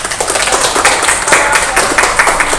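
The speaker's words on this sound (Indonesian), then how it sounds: "Terima kasih, tepuk tangan." Group of students clapping together in a classroom group guidance session, a steady dense patter of hands filling the whole stretch, fairly loud and close.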